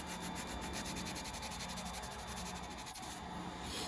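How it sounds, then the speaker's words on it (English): Paper towel wiped firmly back and forth over a leather knife sheath to lift laser-engraving residue, giving a quiet, continuous scrubbing rasp close up. "we'll just get as much off as we can with this paper towel"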